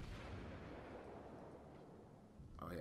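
A tank's cannon fires in an online war video game, a single heavy booming blast at the start whose rumble rolls and fades over a couple of seconds, with no speech.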